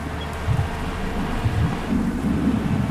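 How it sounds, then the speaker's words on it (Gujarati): Heavy rain pours steadily on a dirt road in Jammu and Kashmir, a dense continuous roar with low rumbling swells and no voices. "વરસાદ ચાલુ જબરજસ્ત વરસાદ ચાલુ"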